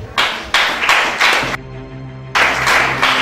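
A church congregation applauds in loud bursts of clapping, with a sustained organ-like tone filling the gap between them.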